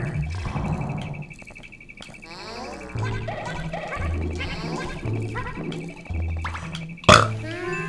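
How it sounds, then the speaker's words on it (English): Yoshi from the video game Yoshi's Story gives short cartoonish burp-like grunts among playful game music and sound effects, with a sharp burst near the end. "I just burped."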